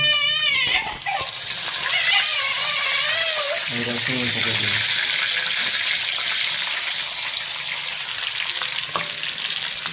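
Cumin seeds crackle and sizzle loudly in hot refined oil in a pan, a dense hiss that lasts throughout, with a voice speaking briefly over the start.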